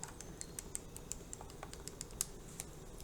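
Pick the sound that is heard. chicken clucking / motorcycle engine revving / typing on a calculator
typing on a calculator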